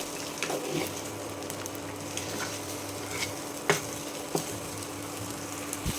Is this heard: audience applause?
no